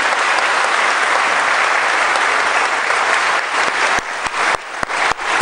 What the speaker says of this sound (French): Je voudrais demander qu'on l'applaudisse encore une fois.